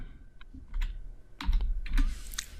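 An npm install command typed on a computer keyboard, a close, irregular run of clicking keystrokes with a few clustered bursts and no speech.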